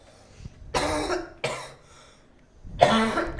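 Three harsh coughs burst out in sequence, the first two close together and the last after a short pause, loud and near with no talk over them.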